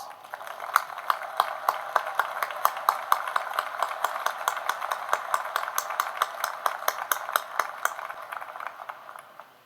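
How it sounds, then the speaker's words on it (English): Scattered, thin applause from a small commencement crowd, steady clapping that continues for several seconds and tapers off at the end. "I ask that we take a moment to pause and recognize those individuals with a round of applause."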